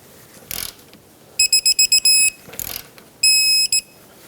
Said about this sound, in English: This bolt gets torqued to 70 foot-pounds.